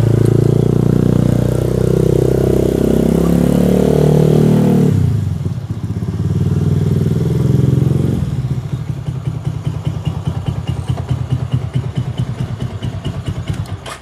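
A Suzuki Spin motorcycle engine runs loud and close, first with a deep steady roar, then a brief drop, then a rapid clattering idle pulse.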